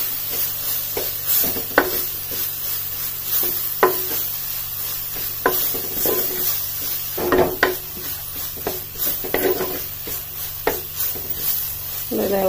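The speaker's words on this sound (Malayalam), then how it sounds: "ഈ ഉപ്പും മഞ്ഞപ്പൊടി എണ്ണ കടുകും എല്ലാം കൂടെ ഒന്ന് ഒന്ന് സെറ്റായി വരാനായിട്ട് നമുക്കൊന്ന് ഇളക്കി കൊടുക്കാം." A spoon stirs salt, turmeric, oil and mustard seeds in a pan, giving scattered scraping clinks over a faint sizzle, fairly close and steady with no talk.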